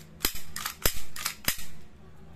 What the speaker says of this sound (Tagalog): Then, testing natin putok.